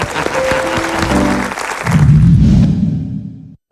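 An audience on an Indonesian comedy variety show claps in a steady burst of applause, loud and close, with music or voices underneath before the sound cuts off abruptly.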